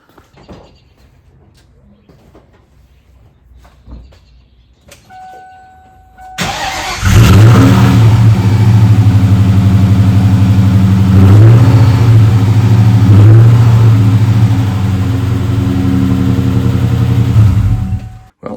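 A rebuilt 1997 Mustang Cobra V8 engine fires up after a quiet stretch and runs loud and steady, a deep rumbling idle that holds for about ten seconds before cutting off.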